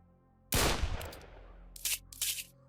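Gunfire in a video game: one loud, close shot with a ringing decay, then two quicker, fainter bursts of shots toward the end.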